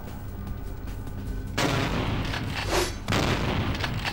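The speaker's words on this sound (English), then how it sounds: "Someone's shooting me." Gunfire in the Vampire The Masquerade Bloodlines video game: dense crackling shots with booming low-end bursts at about 1.6 and 3.1 seconds, steady and loud under a rumbling game background.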